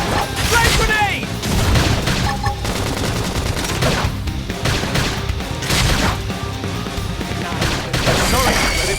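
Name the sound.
flame grenade explosion in video game Xenoblade Chronicles X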